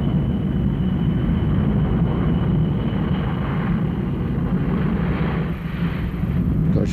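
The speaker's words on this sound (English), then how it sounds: "Boeing 707, we're cleared to come up on power." Boeing 707 jet engines spool up for takeoff on the runway, a loud continuous rumbling roar with broad noise that holds steady throughout, dipping briefly near the end.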